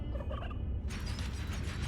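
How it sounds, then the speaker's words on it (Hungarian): Fowl clucking and gobbling in the dungeon management video game Dungeons 4, a quick burst of bird calls fading into a busy mechanical rattle under a thick low rumble. "Mit keresnek itt ezek a csirkék?"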